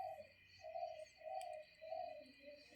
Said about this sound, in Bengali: কুকু পাখির ডাক শুনতে পাচ্ছেন কিনা জানি না, রাত্রেও ডাকে